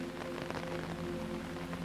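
Steady rain falls through the night, a soft continuous patter on surfaces under a low hum, with no voices.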